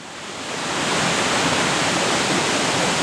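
Abundant water at the Neromana mountain spring in Ano Kastritsi near Patras rushes steadily, a loud, continuous broadband roar that swells in over the first second and then holds.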